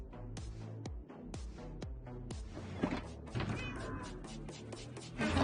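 A cat in Minecraft meows a few times over background music with rhythmic plucked notes, the calls fairly close and mixed into the game sounds.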